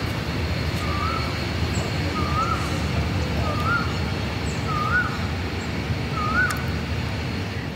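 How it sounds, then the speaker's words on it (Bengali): An Asian koel calling from a distance, five rising whistled notes at steady intervals over a constant low rumble of background noise. "পিছন থেকে এত সুন্দর কোকিলের ডাক আসছিল"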